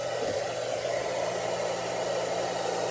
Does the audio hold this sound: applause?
no